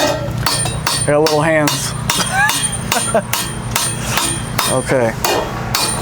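Hand hammering of a cymbal at the Sabian factory: a steady series of loud, ringing metallic strikes in close succession, with people talking between and over the blows.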